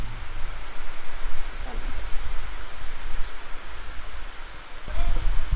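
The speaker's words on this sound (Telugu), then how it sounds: "బయట వర్షం స్టార్ట్ అయింది. మంచిగా పడుతుంది వర్షం." Steady rain falls outside a home, a dense continuous hiss at moderate level, with a short louder patter or thump near the end.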